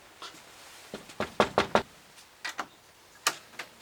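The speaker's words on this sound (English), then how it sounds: "Go ahead and knock." Knocking on a door, with a few light taps followed by a quick run of three firm knocks, then more scattered raps, heard alone and close.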